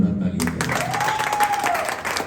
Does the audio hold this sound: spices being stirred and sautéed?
no